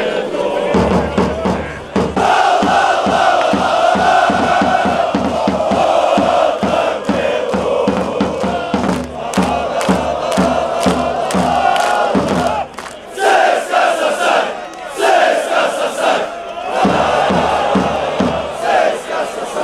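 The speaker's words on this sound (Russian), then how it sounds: "делают нараспев песню, а потом взрываются в этот момент" Football fans at a Torpedo versus Sheffield match chant a song in loud, rhythmic pulses. Near the end the chant breaks off into a massive roaring burst of shouting, very close and dense.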